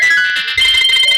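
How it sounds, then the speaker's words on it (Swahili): A mobile phone ringtone plays loud and close, a bright electronic melody of tonal notes that shifts pattern halfway through the short burst, with no voices. "Simu inaita. Wewe usikii?"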